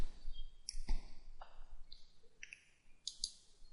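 Computer mouse clicks while selecting sheets in an Excel spreadsheet: a handful of soft, close, crisp clicks scattered over a few seconds against a faint low hum.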